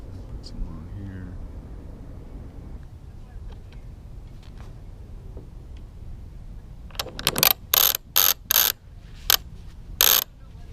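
After some quiet handling and low background noise, a freshly serviced sailboat jib winch spins with a loud, sharp ratcheting clatter in several short bursts, close by.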